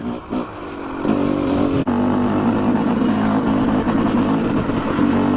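A Yamaha YZ 250 two-stroke dirt bike on a trail ride runs in fifth gear, its engine snarling loud and steady after a brief lower-pitched start, close and continuous with a momentary dip.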